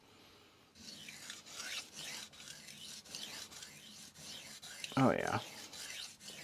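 Long strokes of a knife blade across a vitrified diamond sharpening stone give a rhythmic rasping scrape, about six close passes in quick succession, with a brief spoken remark near the end.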